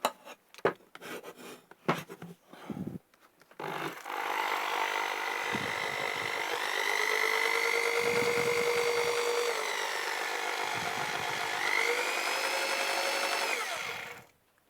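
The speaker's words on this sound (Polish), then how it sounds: "to jest właśnie wiertarka po odnowieniu" A few sharp knocks and clatters, then a restored electric drill spins up and runs steadily with a smooth high whine before winding down.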